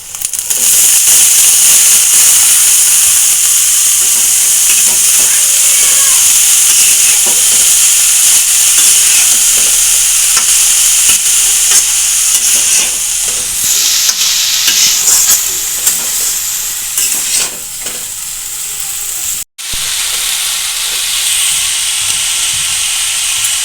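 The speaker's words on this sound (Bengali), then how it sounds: "পেঁয়াজটা ভাজা ভাজা হয়ে গেছে এবার আমি ঠোঁটটা দিয়ে দেবো" Banana stem tossed into fried onions in a pan sets off a loud, hissing sizzle that runs throughout, with stirring scrapes and a brief dropout near the end, no voices.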